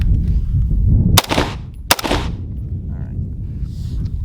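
Two sharp, loud rifle shots from a Desert Tech MDRX fired at a silhouette target on an outdoor range, about 0.7 seconds apart, each followed by a brief echo over steady background rumble.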